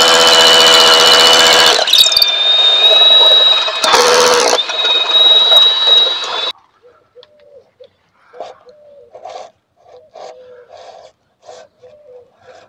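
Power drill with a 10 mm bit boring, a loud high whine for about six seconds with a brief pause midway, then stopping, followed by faint scattered small knocks and taps.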